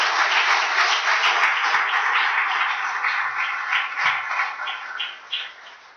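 A church congregation bursts into applause on Father's Day, a dense, steady wash of many hands clapping across a large room that slowly thins toward the end, with no voices over it.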